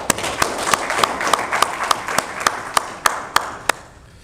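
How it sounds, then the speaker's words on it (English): Audience applause at a Toastmasters training session, steady and fairly close, with a few sharper individual claps standing out at a regular pace throughout. "let's give them all a big round of applause,"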